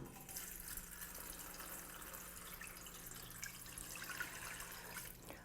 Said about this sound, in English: And we're gonna add some water.